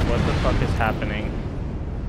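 Airstrike explosions in Apex Legends, a heavy rumbling boom rolling on with low crackle, loud and sustained, with a voice speaking over it.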